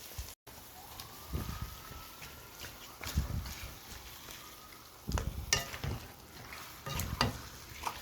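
Marinated mutton fries with browned onions in a pan and is stirred, a low sizzle broken by bursts of scraping and clattering at intervals, close and moderately quiet, with no talking.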